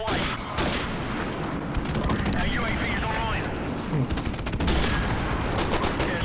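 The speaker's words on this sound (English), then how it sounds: "Friendly airstrike on the way." Airstrike explosions and rapid gunfire in the Modern Warfare video game: dense, continuous bursts of shots and booming blasts rolling together over several seconds, fairly loud throughout.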